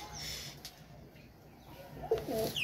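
Shahjahanpuri pigeons at a pigeon farm, cooing and murmuring softly at close range with faint bird sounds, low and intermittent over the short span.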